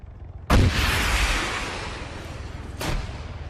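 Gunfire aimed at a helicopter in the military shooter Arma 3: one loud, sharp shot followed by a long rolling echo, then a second shot near the end.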